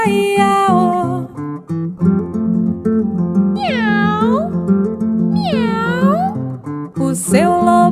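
A cat meows twice in long, rising-and-falling calls over a children's farm song with singing and backing music, followed by a shorter cry at the end.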